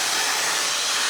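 A hot air styling brush blows steadily while drying hair held at the roots, giving a constant loud, airy whoosh that runs through the whole moment with no talking.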